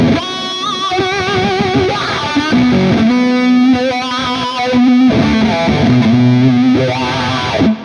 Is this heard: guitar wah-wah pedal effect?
yes